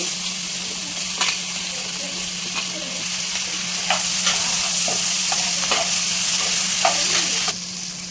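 Chopped onions fry in butter in a pan, a steady close sizzle broken by repeated light scrapes and clicks of a stirring spoon, the hiss swelling brighter partway through and easing near the end.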